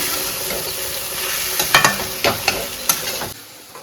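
Flattened rice and grated coconut are stirred in a hot pan for aval kozhukattai. A spoon scrapes in several sharp strokes over a soft, steady sizzle, then goes quiet.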